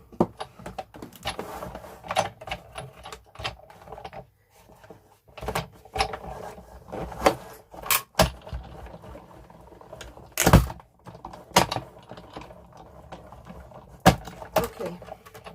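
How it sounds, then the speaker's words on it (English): A die cut machine cranks a Nicole Silhouette journal die through a corset spine journal panel, giving irregular clicks, knocks and one sharp crunching burst. The handling noises are close and uneven, with quiet gaps between them. "bring in the die cut machine. Let's just cut this out."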